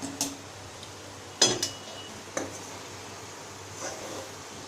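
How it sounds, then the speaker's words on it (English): A sugar and peda mixture stirred in a pan over a slow flame, a few sparse metallic scrapes and clinks of the spoon against the pan amid quiet pauses. "You stir it till it solidifies"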